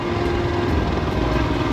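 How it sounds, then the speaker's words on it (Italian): Steady, loud droning engine roar with a constant low hum, like a propeller airplane passing low overhead, continuous throughout, on a mountain road at Enego and Marcesina. "Guarda che basso l'aereo, guarda che basso."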